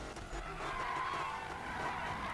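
A Ford Mustang skids and drives in a Need for Speed racing game, a continuous tire squeal with engine hum layered over a steady, fairly loud roar for a couple of seconds.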